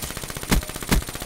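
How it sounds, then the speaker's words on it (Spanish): Rapid gunfire in the video game Black Ops 3 rattles as a fast burst of automatic shots, with two heavier, louder bangs standing out within it. "Por aquí escuché disparos."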